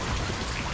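Steady rain falling outdoors on a hike in wet weather, a dense continuous patter of drops heard alone at moderate level.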